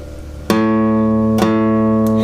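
An acoustic guitar plays a riff for beginners, with three plucked, ringing notes spaced about a second apart, loud and close with no talking.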